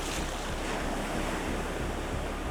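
Ocean surf washes steadily onto a beach in Argentina's Valdés Peninsula, a continuous loud roar of breaking waves mixed with wind buffeting the microphone, no voices.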